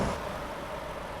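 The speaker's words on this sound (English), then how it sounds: "It doesn't have that throatiness to it as a lot of trucks do, but it sounds like a turbo." A turbocharged truck engine in American Truck Simulator runs at a steady low rumble, heard from outside the truck, short and even with no talk.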